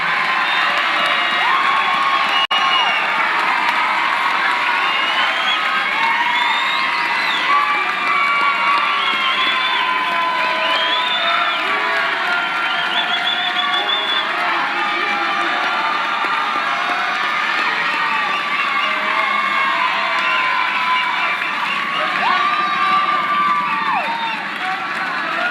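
A graduation ceremony audience applauds and cheers loudly and continuously, with whoops and shouts rising from a large crowd throughout.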